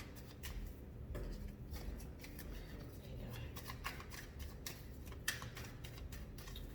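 Tarot cards being shuffled by hand, a steady run of soft papery riffles and flicks with a few sharper snaps, close and continuous with no voice over it.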